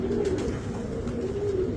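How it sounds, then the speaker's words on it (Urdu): Pigeons of a high-flyer breed coo softly in a steady, low, throaty murmur, close by, with no voices over them. "اب دیکھیں میں آپ کو کبوتر دکھاتا ہوں۔"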